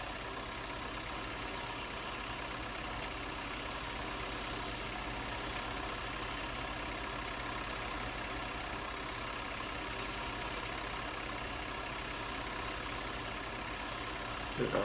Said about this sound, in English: Engine right at the side of us on this combine.